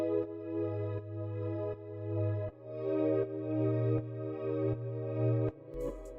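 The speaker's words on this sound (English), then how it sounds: "I got this pad from Digital Romance" A sustained, harmonically rich synth pad from the Digital Romance kit playing in FL Studio, held chords whose volume pulses rhythmically in and out, alone with no voices.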